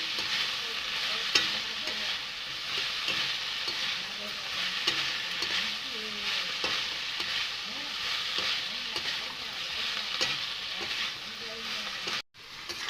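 Potatoes fry in a pan with red chilli powder, a steady sizzle with scraping stirring strokes throughout, heard close and without voices.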